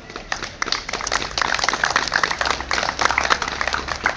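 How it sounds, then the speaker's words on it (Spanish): An audience at an urban cycling award ceremony claps for a prize winner, with dense, lively applause that builds after a sparse start and stays busy and close. "Un aplauso."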